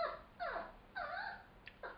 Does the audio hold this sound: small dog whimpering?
yes